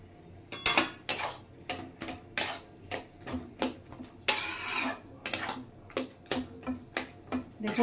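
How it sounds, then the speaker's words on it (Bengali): Food being stirred and mixed in a pan with salt added, giving a run of sharp, irregular clinks and scrapes of the utensil against the pan, close and fairly loud, with no talking. "দেখুন এইভাবে পুরোটা ভালো করে মিশিয়ে নিতে হবে"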